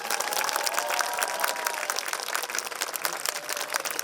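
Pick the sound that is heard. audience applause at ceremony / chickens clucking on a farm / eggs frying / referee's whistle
audience applause at ceremony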